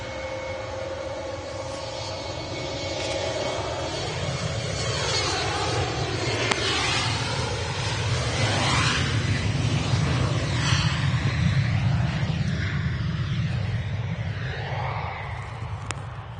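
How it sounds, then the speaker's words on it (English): An Emirates Airbus A380 airliner at Manchester Airport gives a steady, loud jet engine roar that swells slightly and holds for the whole stretch, with no voices over it. "So we have the epic Emirates A380 in the Back to the Future livery."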